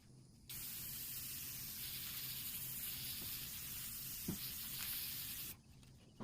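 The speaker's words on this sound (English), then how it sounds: "I'm just going to spray it over top of it" An aerosol can of acrylic sealer sprays onto a photo canvas, a steady hiss for about five seconds, starting and stopping abruptly, with a faint low hum underneath.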